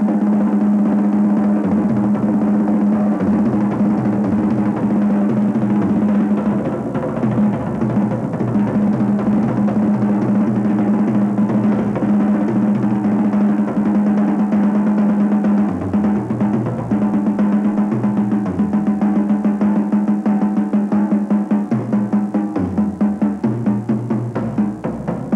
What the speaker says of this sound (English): You can actually play paradiddles on the drum set, and they would sound, they'd sound like this.